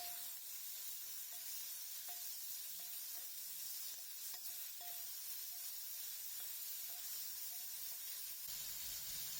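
Finely chopped medium onion sautéing in a pan for a Kerala-style prawn roast, a steady quiet sizzle with occasional faint clinks and scrapes of stirring, no voices.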